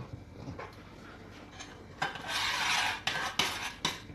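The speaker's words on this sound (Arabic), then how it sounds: "نقعدوا نخلطوا هكا شويه ونعاودوا" A metal utensil stirs and scrapes food in a cooking pot, quiet clinks and taps at first, then a louder stretch of scraping with a few sharp knocks against the pot, no talking.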